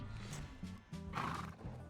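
A horse neighs in a Minecraft addon, a striped horse being tamed with carrots; a close whinny with repeated tonal calls and clopping hooves fills the whole two seconds, loud and alone.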